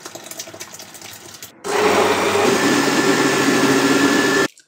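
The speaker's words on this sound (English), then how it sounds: "So I'm gonna put it in the blender." A blender puréeing butternut squash soup roars loudly and steadily for about three seconds after a quieter stretch of background noise, then cuts off abruptly.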